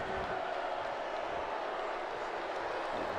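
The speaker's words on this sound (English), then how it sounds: "Just getting booed" A WrestleMania X arena crowd keeps up a loud, steady wash of jeering that lasts the whole moment, turning on two brothers mid-match, with no clear individual voices breaking through.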